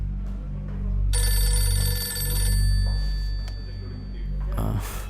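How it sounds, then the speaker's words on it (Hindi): A phone ringtone plays in a scene from an Indian film dubbed into Hindi. A bright, repeating electronic melody rings for about a second and a half over low rumbling background, with voices speaking around it. "ए, भाई ये रिंगटोन मुझे चाहिए।"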